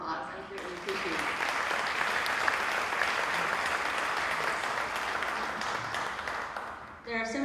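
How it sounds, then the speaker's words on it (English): Crowd applause at a 2021 hall of fame ceremony, a sustained burst of many hands clapping for several seconds, with a brief voice before and after. "So if we could give Paul a round of applause"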